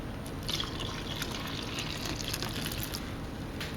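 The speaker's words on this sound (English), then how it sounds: "I'm going to add my water in." Water poured into a mixing bowl holding rye sourdough dough ingredients, a steady close trickle with scattered drips over a few seconds, no talking.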